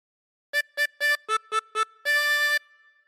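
A tremolo harmonica plays a short phrase of 99 Bottles of Beer: six quick separate notes in a bouncing rhythm followed by one longer held note, bright and reedy, alone against silence.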